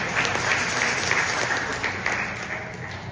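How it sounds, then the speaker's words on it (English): An audience at a speech by a president of a United OPSA association claps for itself, a broad sustained wash of applause at moderate level that tapers slightly toward the end. "So clap for yourself."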